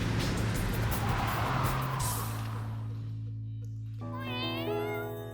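A car engine roars and fades, then a white cat meows clearly with a rising and falling wail over a lingering low hum.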